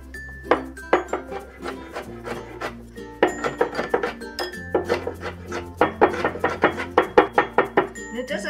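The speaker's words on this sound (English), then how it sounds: "Next, let's mince the pickled mustard." A knife rhythmically chops and minces pickled mustard on a cutting board for Sichuan-style dry braised shrimp, with steady close clicks and knocks under a low kitchen hum.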